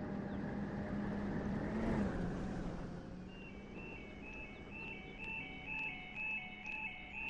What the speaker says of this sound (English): This is a funny beeping noise.